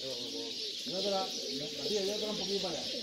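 Pigeons coo softly outdoors in trees during a hike near the Rocher de la Vierge, with low repeated cooing calls heard alongside some background voices.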